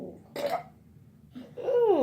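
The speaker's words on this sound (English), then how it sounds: "And we let off some good burps." During a mukbang of rotisserie chicken, egg rolls and mixed vegetables, two loud, close burps sound, a short one first and then a longer, deeper one rising and falling in pitch after a brief pause.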